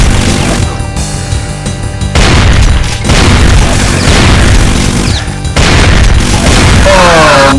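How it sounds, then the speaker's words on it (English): A chain gun fires in Brutal Doom, dense heavy booms and crashing impacts in loud sustained bursts broken by short pauses, with no talk. "chain gun fight."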